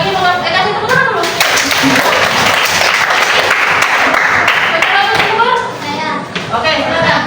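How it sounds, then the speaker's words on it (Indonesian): Classroom applause from children, loud close clapping with thumps and taps mixed in, children's voices talking and calling over it before the clapping tapers off. "Ada lagi yang mau kasih tepuk tangan dulu."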